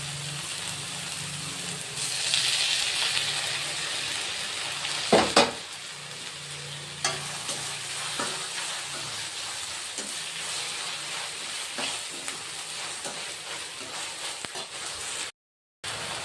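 Chopped tomatoes sizzle and fry with onions in a pan while making Davangere-style mandakki usli, a steady crackling hiss with occasional stirring clatters and brief knocks, and no talking.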